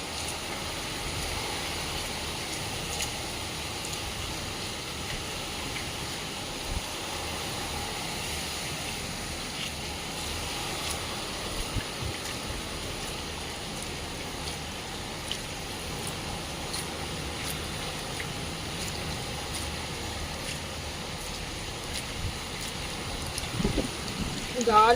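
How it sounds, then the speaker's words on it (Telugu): Heavy wind-driven rain pours steadily outside a house, a dense unbroken hiss of falling water lasting throughout, with no pauses. "గాలితో కూడిన వర్షం ఇది. ఘోరంగా పడుతుంది ఫ్రెండ్స్."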